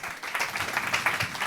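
An audience at a talk on the brain and mind claps for a psychiatrist guest, producing a steady, dense wash of applause for a second and a half with no voices over it.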